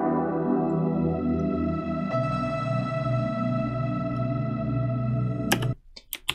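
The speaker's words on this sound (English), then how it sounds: "I've kind of accentuated it with a really reverberant piano hit." A heavily reverberant piano hit with its reverb tail reversed swells in from the start, and a second chord change follows partway through. Sharp clicks and stutters sound near the end before it cuts to quiet.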